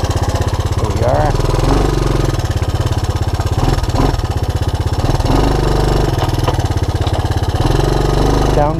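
A Honda ATC200ES Big Red ATV runs close by after repair, its engine holding a steady, loud, throbbing putter with small shifts in pitch as gears change, while someone talks over it.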